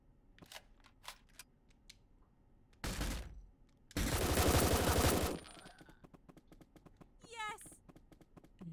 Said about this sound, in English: Don't wait until you can see, just start shooting.